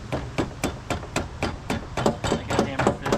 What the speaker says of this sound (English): It's a piece of wood, Josh. Tap with the hammer.